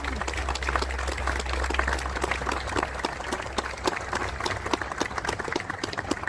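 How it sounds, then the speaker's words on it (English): An audience at a Memorial Day ceremony in El Dorado County Veterans Park claps steadily, a dense patter of many hands outdoors at moderate distance, sustained evenly over a low background hum. "please give those standing a warm round of applause"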